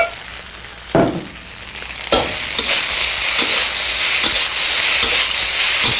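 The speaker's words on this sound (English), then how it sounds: "Saute them all up, mix them all together." Rice and vegetables sautéing and being stirred in a pan: a loud, steady sizzle with scraping stir strokes, the frying hiss jumping up as the rice goes in and holding strong to the end.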